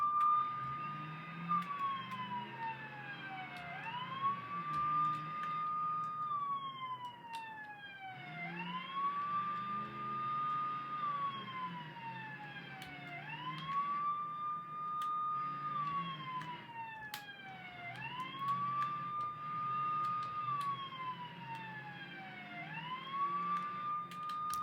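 Off-road ambulance siren in BeamNG Drive, a loud wailing tone sweeping up and down in repeated regular cycles over a low engine rumble, continuous throughout.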